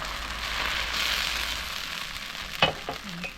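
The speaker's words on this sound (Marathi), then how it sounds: "हा निरडोसा आपल्याला एका बाजून चांगला भाजून घ्यायचा आहे" Neer dosa batter sizzling on a hot tawa, a steady close frying hiss that fills the whole stretch, followed near the end by a couple of light clicks and scrapes.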